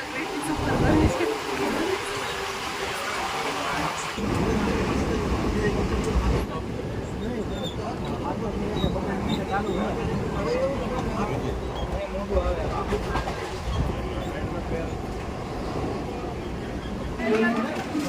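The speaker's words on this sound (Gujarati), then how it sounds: "ફર્સ્ટ ટાઈમ લોકલ ટ્રેન સફર કરી છે" A crowded Mumbai local train ride toward Dadar station, heard as a continuous rumbling, rattling carriage drone with muffled voices and chatter mixed in the whole way.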